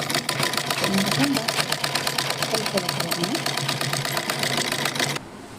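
A sewing machine stitches a lacha blouse in steady rapid bursts, running close and loud before cutting off near the end, with someone talking over it.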